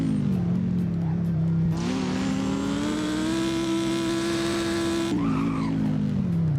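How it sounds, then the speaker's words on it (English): An Audi R8 GT in the Driving Empire video game downshifts, its V10 engine note dropping and then holding a steady high whine while tires squeal loudly across the middle, then falling again at the end. "those downshifts honestly sound amazing"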